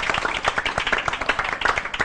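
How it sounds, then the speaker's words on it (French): A studio audience on a French celebrity game show claps for a guest, a dense, steady burst of close applause with sharp individual hand claps throughout and no talking. "On applaudit Totem Make-up, s'il vous plaît."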